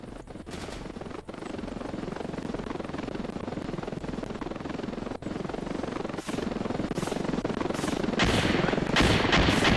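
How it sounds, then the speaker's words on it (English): An attack helicopter in a video game thunders overhead with steady rotor noise, punctuated by sharp bursts of gunfire, growing louder toward the end with no talk. "Calling in the attack, heli."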